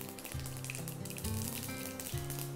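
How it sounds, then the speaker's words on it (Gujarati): Cumin seeds and asafoetida sputter in hot oil for a tempering, a loud, close crackling sizzle with rapid popping throughout and no voices. "1/2 ચમચી અને જીરું તતડી જાય એની અંદર પછી આપણે હિંગ ઉમેરીશું"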